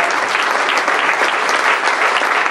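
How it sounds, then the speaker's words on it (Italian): Dense, steady applause from the audience at a political convention, loud and uninterrupted for a couple of seconds with no voices standing out. "io farei veramente un grande applauso ad Alessio Pascucci"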